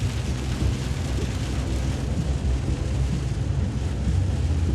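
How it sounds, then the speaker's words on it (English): Heavy rain pouring down at Jennings Ferry, a constant broadband hiss with a deep low rumble throughout, steady and loud with no voices. "It's pouring down rain now."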